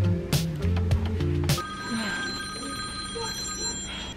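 A telephone rings from a butt dial in a bookstore, giving a few loud repeated rings at the start before fading into background hum.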